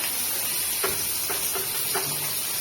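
Onion dropped into hot oil for a Bangla village-style fish, potato and pointed gourd curry, giving a steady loud hissing sizzle with a few faint clinks or stirring taps over it.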